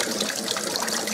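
Cold water from a sink tap runs steadily over a burned arm, a continuous close splashing and trickling with no pauses.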